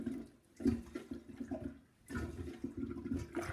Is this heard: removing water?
yes